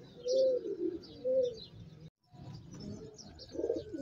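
Yellow Danish fancy pigeons and their chicks coo softly at close range in repeated low, rolling calls, mixed with faint chirps.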